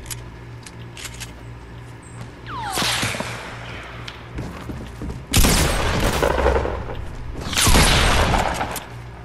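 Gunfire in a Fortnite Battle Royale match near a barn, with several loud bursts of shots and crackling impacts separated by quieter gaps of game ambience.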